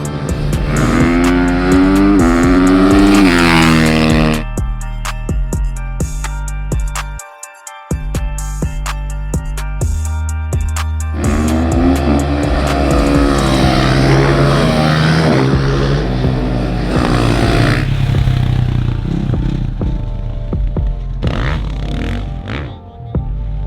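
A 2025 KTM 450 SMR supermoto motorcycle revs hard and shifts through gears while riding, loud and close, its engine note rising and falling with a brief cut in the throttle partway through.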